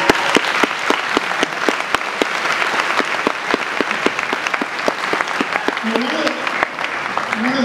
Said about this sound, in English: The alumni people, if we can just applaud right now